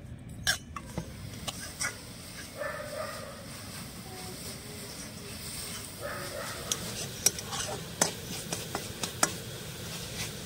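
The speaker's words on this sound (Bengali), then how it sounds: "এবার নেড়ে চেড়ে সুন্দর করে একটা পুর বানিয়ে নেব।" A coconut and jaggery filling for pithe is stirred in a kadai. Quiet, irregular spatula scrapes and clicks sound over a low background hiss, with no voices.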